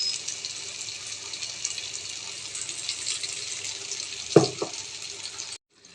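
A little water is poured into a pan of pointed gourd cooking in oil. A steady sizzling hiss is broken near the end by a brief splash and a sharp burst of bubbling before it cuts off.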